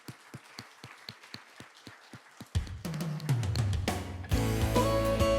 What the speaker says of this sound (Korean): 우리 하나님께 영광 박수 한번 올려드리면서